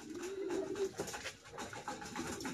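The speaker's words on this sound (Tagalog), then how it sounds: "Ayun, nagkasabay-sabay mga kalapate natin." Several pigeons cooing together at a loft, overlapping low coos repeating steadily and close by, with faint rustling and no talk.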